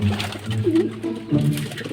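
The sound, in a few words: pigeons cooing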